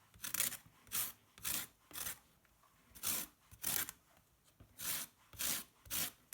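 An organic lemon is scraped over a zester in about ten even, rhythmic rasping strokes, close and fairly quiet with short pauses between them.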